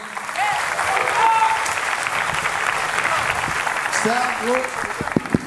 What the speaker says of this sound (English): would you guys give a hand, a round of applause to our host for the night, Jeremy Taylor?